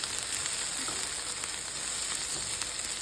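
Onion and garlic frying in a pan until browning, a soft, even crackle and sizzle heard close up, with faint stirring scrapes now and then and no voices.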